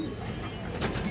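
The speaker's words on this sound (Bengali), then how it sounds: "একটা মাদি কবুতর, কালো বাঘা মাদি কবুতর দর্শক" Pigeons, including a black female of a high-flying tumbler breed, coo softly and close by in a bird market, with a brief flutter of wings near the end.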